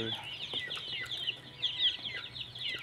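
Chickens raised for harvest cluck steadily and close by, a busy overlapping chatter of several birds with no talking.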